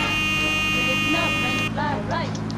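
Car horns honk at a policeman on a street in Mafia II, several overlapping tones blaring loudly along with steady engine noise while a voice talks over them.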